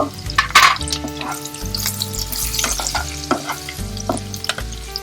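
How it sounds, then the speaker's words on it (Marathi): Red and green chillies sauté in a hot pan for dal pakwan, a steady close sizzle with scraping stirs, while a melodic tone runs underneath throughout. "2 लाल मिरच्या आणि हिरवी मिरची. आपण परतायचं."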